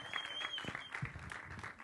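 Brief burst of audience applause at a Main Aur Charles movie trailer launch, a crowd clapping close and fairly dense with some raised voices mixed in.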